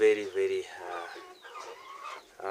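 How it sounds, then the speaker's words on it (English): Kienyeji chickens on a rural Kenyan village farm cluck loudly and close at the start with a few quick repeated calls, followed by softer, scattered fowl sounds. "These ones are kienyeji chickens."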